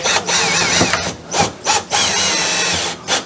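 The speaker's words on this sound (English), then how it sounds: "shoot those screws in the bottom first" Power drill driving screws into the bottom of a refrigerator mount in a Grand Design RV, with several short, loud whirring bursts close by and brief pauses between them.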